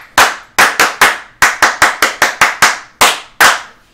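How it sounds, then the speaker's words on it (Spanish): A small group claps in quick, sharp bursts, about a dozen distinct loud slaps arriving in uneven clusters, close and clean with no talk over them. "Salvador, vamos, un aplauso para Salvador."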